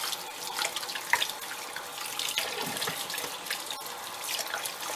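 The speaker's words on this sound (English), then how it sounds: "pretty much most of it just rinses right off" Tap water pours over celery stalks in a sink, washing the dirt away in a steady close spray with small splashes and drips throughout, no one talking.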